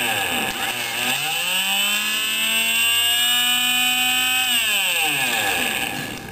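A simple homemade electric motor, its magnet epoxied to a mousetrap base, whirs up to a steady whine and then winds back down, loud and close.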